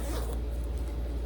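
A bag zipper is pulled open in one quick continuous rasping stroke, close up and fairly loud, with no voices.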